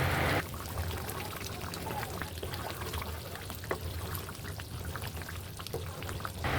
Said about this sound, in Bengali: দুই কাপ পানি অ্যাড করলাম